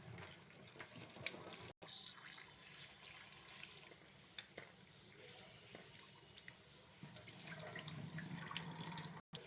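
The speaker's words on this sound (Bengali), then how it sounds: "এরপরে আমি ভালো করে ধুয়ে নেব আলু বেগুনটাকে।" Cut potatoes and eggplant washed under a running kitchen tap, a steady faint splashing water stream with small squishes and clinks of handling throughout.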